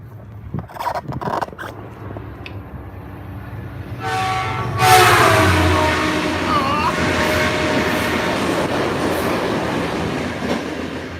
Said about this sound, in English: here comes the train comes the right train